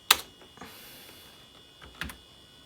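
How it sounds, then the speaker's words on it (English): Keys are pressed on an Apple iMac G3 keyboard, a few sparse, separate clicks in a quiet room, close and fairly faint. "Let's type some numbers."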